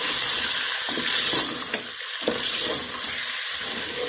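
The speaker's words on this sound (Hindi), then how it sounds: "अब मैं चिकन डालने लगी हूँ। ये भी अच्छी तरह फ्राई हो जाए।" Chicken frying in a pot with ginger-garlic paste and onion for kabuli pulao, a loud, steady, close hiss of sizzling that carries on without a break.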